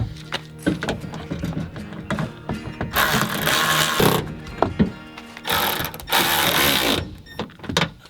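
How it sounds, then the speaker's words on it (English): A ratcheting wrench clicks in rapid bursts while a bolt is tightened on a Trailrax Pak Rax roof rack for a Ford Bronco, with sharp clatters and metallic rattles between the runs of close, loud ratcheting. "What I like about this ratcheting wrench is that it's strong,"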